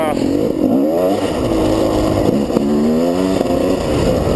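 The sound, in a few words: two-stroke GasGas motorcycle engine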